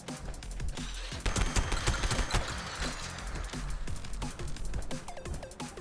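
Gunshots in the video game Fallout 76, a rapid series of close, sharp reports fired in quick succession with no talking over them.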